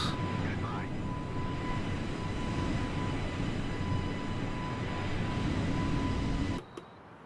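Aircraft engines in Microsoft Flight Simulator give a steady, dense roar with a thin high whine on top, holding constant before cutting off sharply near the end.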